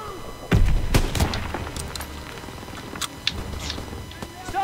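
Gunfire in a Call of Duty: WWII campaign battle at a German factory. A few loud, sharp shots crack near the start, and scattered reports follow over the noise of battle.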